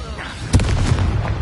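Confringo and Incendio fire spells bursting in Hogwarts Legacy, a sudden loud blast followed by crackling, rumbling fiery bursts in close succession over low background noise.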